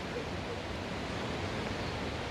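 The Kapuzbaşı waterfall roars in a steady, loud, broadband rush of falling water, close and continuous with no pauses or voices.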